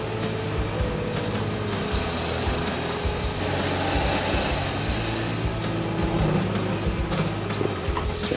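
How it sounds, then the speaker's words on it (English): A power drill bores deep into a wooden log with a bit extension, a steady loud motor whine and grinding running continuously and close by throughout. "I have an extension for the bit that I stick on to drill even deeper."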